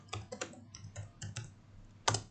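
Commands are typed on a computer keyboard while preparing a drawing for laser cutting, heard as a close, quick run of individual keystrokes ending in one firmer key press.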